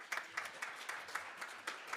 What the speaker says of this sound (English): let's give one more big round of applause to our first half of our community organizations